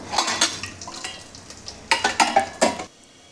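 Whole spices like fennel, stone flower and biryani spices frying in hot oil for mushroom biryani, a crackling sizzle punctuated by several sharp spoon-on-pan clinks and stirring knocks, close and fairly loud.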